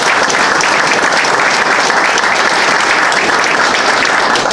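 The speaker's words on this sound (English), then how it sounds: "Let's another big round of applause for Duane." A loud, dense round of applause fills the room at a dedication for Duane McLean, a continuous roar of many hands clapping together without letting up.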